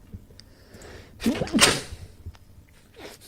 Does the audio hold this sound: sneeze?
yes